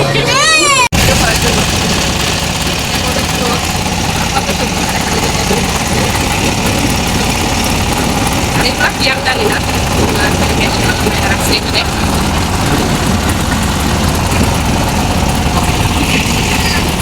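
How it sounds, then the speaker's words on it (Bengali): A steady, droning engine of a medium-sized boat at Mawa ghat runs throughout, loud and constant, with a sharp click near the start and voices faintly mixed into the hum. "একটু মাঝারি সাইজের নৌকার মধ্যে বসছি, ইঞ্জিন চালিত।"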